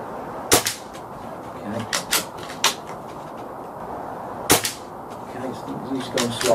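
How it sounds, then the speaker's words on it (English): ATA Arms Airborne .22 air rifle fired outdoors, a handful of sharp, short cracks spread unevenly over a few seconds with faint clicks and handling noise between them. "I'm going to fire two shots at the zero and then five at the actual targets"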